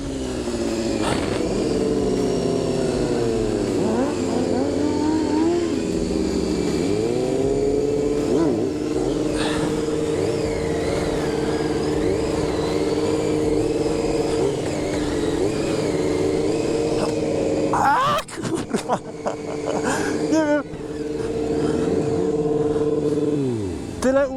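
A motorcycle engine revs and holds steady whines, rising and falling in pitch close by, with a burst of rough revving near the end; a person talks over it.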